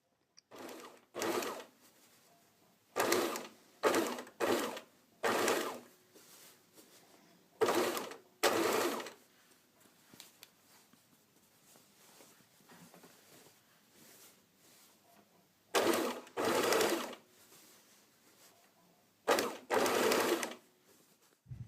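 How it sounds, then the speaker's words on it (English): A sewing machine stitches a garment neckline a few millimetres from an existing seam, attaching the lining, in several short bursts of whirring separated by quiet pauses, close and clear with no talking. "you're only sewing a few millimeters from the actual neckline seam that you've already stitched"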